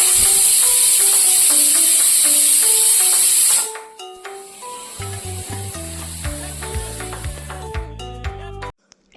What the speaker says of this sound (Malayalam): എന്നിട്ട് നന്നായിട്ട് മിക്സ് ചെയ്തിട്ട് അടച്ചു വെച്ച് 1 വിസിൽ